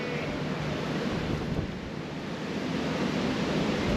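Wind blowing outdoors at beehives, a steady broadband rush of gusting air with low buffeting against the microphone, continuous and fairly loud throughout with no talking.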